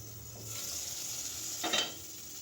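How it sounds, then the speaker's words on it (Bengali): Onions fry in oil in a pan with a faint, steady sizzle, and a brief louder stir or scrape rises near the end. "এখন একটু তেল দিয়ে পেঁয়াজ দিয়ে দিলাম"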